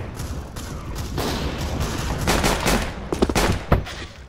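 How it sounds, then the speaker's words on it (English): Rapid gunfire in the game CS:GO, a dense burst of loud sharp shots followed by a few separate cracks, close and without talk. "I shot 5 shots, missed fucking everyone, and he shot 1 shot."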